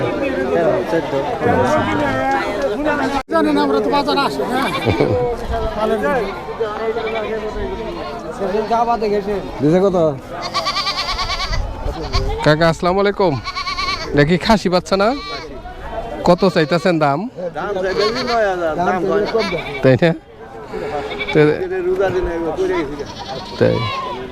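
A castrated male goat bleats repeatedly at a busy livestock market, its wavering cries rising over near-constant crowd chatter and people talking close by.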